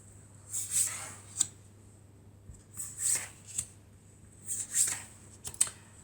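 Tarot cards are shuffled close up in several brisk riffling bursts, each a second or less, with quiet gaps between them.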